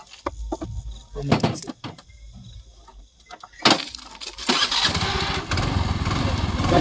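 A Honda Activa scooter starts after a few clicks and knocks, then its engine catches and runs steadily and close, with voices talking nearby.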